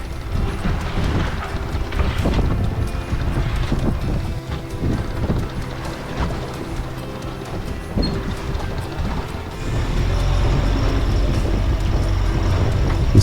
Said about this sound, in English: we decided to drop the sails and motor straight towards the island